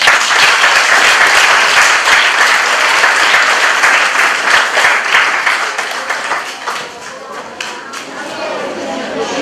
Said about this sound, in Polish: I brawa, proszę.